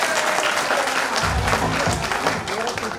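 Audience applause at a speech event, a loud sustained burst of clapping from a crowd lasting the whole moment.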